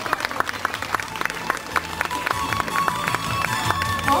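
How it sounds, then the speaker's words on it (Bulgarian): Applause from a crowd at a kindergarten show in Burgas for a group of children: dense, steady clapping throughout, fairly close, with faint voices mixed in. "Аплодисменти за представителите на група Мечо Пух."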